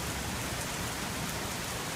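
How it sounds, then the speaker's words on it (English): Heavy rain pours down in a dense, even hiss of countless drops striking surfaces, steady and enveloping, with no voices. "It's raining hard."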